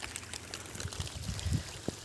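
Cold water trickling and splashing faintly while crabs are dug out of holes, with soft wet sloshes and a few sharper drips over a low, steady background.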